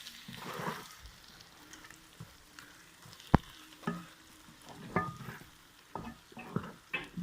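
Egg halwa mixture is stirred in a pan with a soft steady sizzle, with scattered scrapes and clicks of the spoon against the pan.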